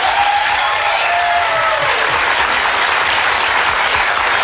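Steady, loud studio audience applause fills the whole stretch, a dense wash of clapping from a live television talk-show crowd with no break.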